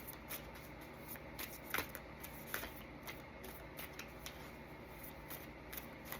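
Tarot cards being shuffled, a steady run of soft riffling flutters with a few sharper snaps, close and quiet, with no talking over it.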